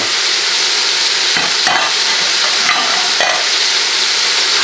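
Peppers and aubergines stirred as they pre-cook together in a pan for ratatouille, a steady close sizzle of frying with a few scraping stir strokes breaking through.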